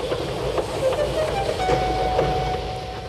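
A model train sets off from a station in a Thomas-style remake scene, a steady mechanical rumble with faint rail clatter and a thin whistle-like tone running underneath, moderately loud throughout.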